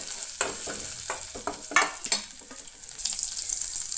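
Diced potatoes and chili frying in a pan for sabudana khichdi, with a spoon scraping and stirring in a quick series of clacks over a steady sizzle.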